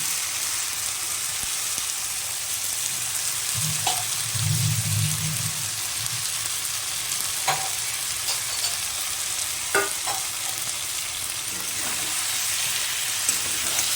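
Small mourala fish frying in a spice paste hiss with a steady, close sizzle, a brief low rumble and a few scattered clicks and scrapes of a spatula along the way.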